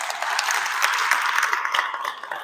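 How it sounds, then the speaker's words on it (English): Steady audience applause at a detail-industry education day event, a dense wash of clapping held at even loudness for a couple of seconds with no talk over it. "So Jim Gogan, give him a round of applause."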